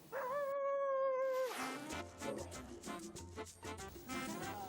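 An Akita dog gives a long, clear howl-like cry that bends and fades, followed by softer whining and yipping vocalizations, close and fairly quiet.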